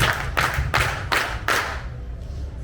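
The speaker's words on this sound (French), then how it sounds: "on applaudit 5 fois" Five sharp bursts of audience clapping in a steady rhythm at a French slam poetry show, loud and close, then fading to a quiet room.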